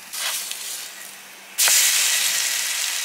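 Food sizzling in a hot pan, with a soft hiss at first that jumps to a louder, steady sizzle partway through as more hits the pan, close by and with no talking.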